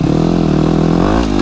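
Enduro motorcycle engine revving up close, a loud buzzing steady drone that rises in pitch briefly near the end.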